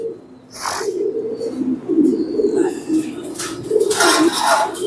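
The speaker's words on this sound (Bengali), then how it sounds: "প্রত্যেকটা টপ কোয়ালিটির কবুতর বেছে বেছে আমি ব্রিডিং এর জন্য সেট করেছি" Top-grade king pigeons in a breeding setup with about ten breeding pairs and their young coo in low, repeated, rolling calls, fairly close and steady, with faint higher chirps and background noise over them.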